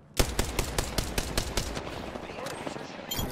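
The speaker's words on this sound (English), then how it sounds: "I'm getting shot at" Gunfire in the game Apex Legends, a fast string of evenly spaced shots that starts abruptly and then fades into a busier wash of game noise, fairly close.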